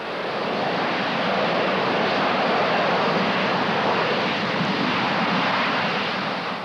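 Harrier jump jet, the latest RAF and US Marine Corps version, flying: a loud, steady broadband jet roar that holds unbroken throughout with no voices.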